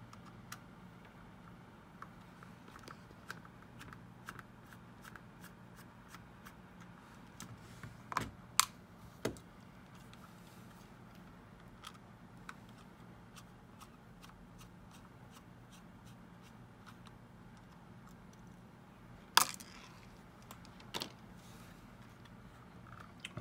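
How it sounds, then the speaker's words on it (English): Small clicks and ticks from a T6 Torx screwdriver removing screw caps on a Mavic Air drone, scattered light taps and scrapes in a quiet room with a few sharper snaps, no talking. "let's begin by taking our T6 Torx screwdriver and removing the two screw caps."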